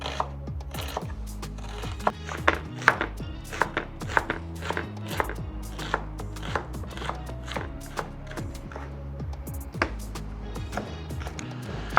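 Knife chopping onions and tomatoes into small pieces for an authentic Mozambican dish, a steady run of sharp, close taps on a cutting board with a quick, slightly uneven rhythm throughout.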